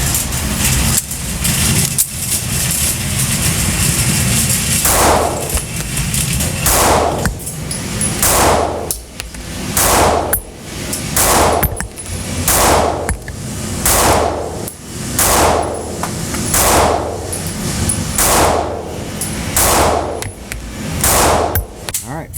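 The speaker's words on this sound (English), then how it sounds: "I'm doing 12 rounds at a time through each gun." A dozen or so pistol shots from a Hellcat Pro or Sig Sauer P365XL ring out in steady succession, loud and sharp, each crack followed by a brief ringing tail at an outdoor range.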